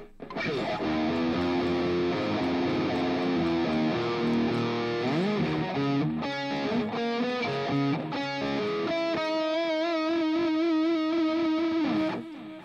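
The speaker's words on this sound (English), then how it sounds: "We've got delay, of course, for all those shredders." Electric guitar played through a delay effect on a Hotone Ampero Stage II multi-effects unit, sustained distorted chords and melodic notes with repeating echoes trailing behind them, loud and continuous with no talking.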